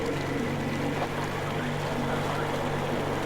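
A boat engine in Metro Exodus (Sam's Story) drones steadily and evenly at close range throughout, with a constant low hum and wash of water noise.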